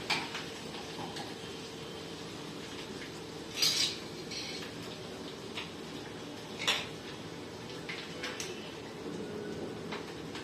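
Mirchi vada filling being mixed in a bowl, with soft scraping and stirring under scattered light metallic clinks and two brighter clanks of spoon against the bowl.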